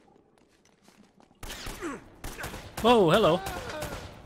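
Gunfire in the video game Uncharted: Drake's Fortune, a few sharp shots breaking out after a quiet start, mixed with game sounds and someone speaking briefly over them.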